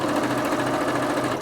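A Singer Quantum Stylist 9960 sewing machine runs at full speed from the first instant, a dense, steady rapid mechanical whir and needle chatter that stays loud and even throughout with no voice over it.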